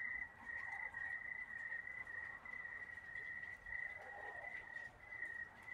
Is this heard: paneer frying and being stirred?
no